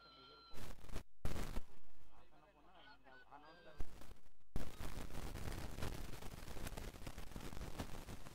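Firecrackers burst in sharp, loud cracks and a dense crackling run at a night cricket match, with animal-like calls and crowd noise around them.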